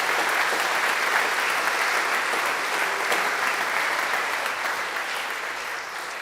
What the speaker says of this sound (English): Can I have one more round of applause for everyone who pitched this evening?